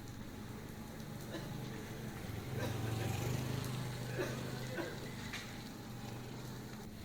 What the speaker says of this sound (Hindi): यह बरसात की पहली बारिश है